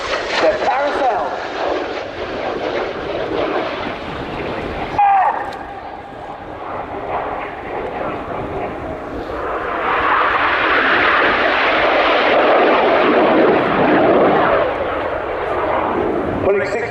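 Red Arrows jets fly a crossing carousel manoeuvre at the Royal International Air Tattoo air show, a distant roaring engine rumble that swells into a louder broad rush, with a commentator talking over it.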